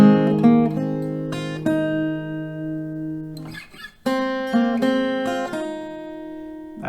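Acoustic guitar plays the G section of a song, with ringing plucked notes and strummed chords in two phrases separated by a brief pause, close and clear with no voice.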